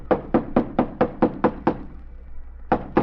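Someone knocks on an old theater's stage door off an alley in a radio-drama effect: a steady run of eight firm, hollow knocks, a brief pause, then one more rap, heard alone.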